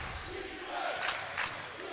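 Crowd at a men's college basketball game, Yeshiva Macs vs. Merchant Marine Mariners, chanting defense: rhythmic crowd voices rising in two swells over arena murmur.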